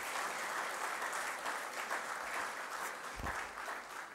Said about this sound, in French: je demande à toute la salle d'applaudir le Premier ministre